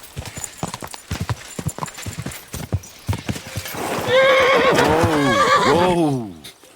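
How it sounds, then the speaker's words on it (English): A horse in Kingdom Come Deliverance 2 trots with a quick run of clip-clopping hooves, then gives a loud, drawn-out whinny before falling quiet; a voice is briefly audible early on. "Guess I don't really need the horse, but we'll take a little ride just up the way here."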